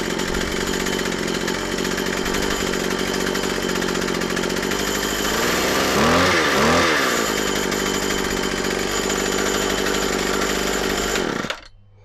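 A McCulloch MH542 P petrol hedge trimmer engine running close up after a primer bulb replacement, a loud steady two-stroke buzz that briefly swells around the middle and then cuts out at the end.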